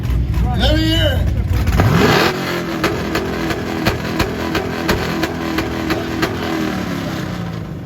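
Exhaust of a 2010 Chevrolet Camaro SS at a car show, revved hard once, then easing back to a steady, throaty idle with light blips. It is loud and close, with people talking over the start.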